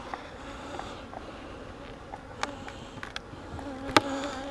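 A low, continuous buzz of many honeybees inside an opened beehive with a queen excluder, steady and close, with a few faint clicks and taps of hive handling and no talk.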